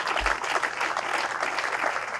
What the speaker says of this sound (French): Maman Christine, je vous applaudissements.